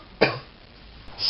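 A single short cough bursts out near the start, followed by quiet and a faint breathy sound at the end.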